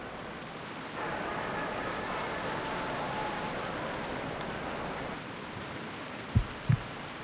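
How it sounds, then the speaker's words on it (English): Steady rain hisses in a video game for several seconds, then eases off, followed by two short, dull thumps near the end. "raining?"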